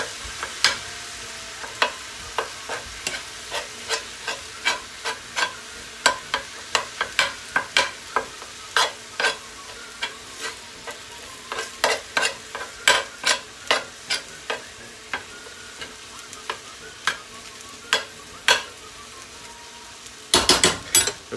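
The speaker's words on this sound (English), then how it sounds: "you just want to start the browning process" Ground meat browning in a pan with a soft steady sizzle, broken by frequent sharp scrapes and taps of a utensil against the pan in an irregular rhythm, close by, ending in a louder clatter.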